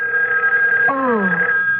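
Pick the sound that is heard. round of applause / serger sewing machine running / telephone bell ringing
telephone bell ringing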